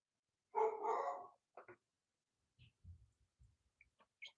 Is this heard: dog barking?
yes